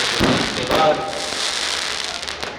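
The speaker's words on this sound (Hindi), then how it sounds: "रामलीला मैदान में सुंदर आतिशबाजी जलाकर" Fireworks crackle and pop over a Ramlila ground during a Ramlila celebration with Diwali festivities, loud dense bursts early on, then a sustained hissing, rain-like crackle that carries on steadily.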